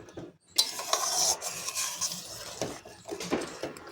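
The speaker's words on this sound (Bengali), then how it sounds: "এখানে আমি এবার দিয়ে দেব ভেজে রাখা ডিম। দিয়ে একটু নাড়াচাড়া করে নেব।" Fried eggs are stirred into a simmering coconut milk curry in a pot, with clinks and scrapes of a utensil against the metal, soft bubbling and light sizzle underneath, and occasional louder knocks; no one speaks.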